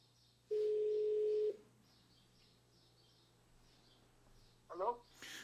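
An outgoing phone call placed through an Alexa smart speaker gives one long steady ringback tone of about a second, then quiet room hiss and a short electronic chirp near the end; no one speaks.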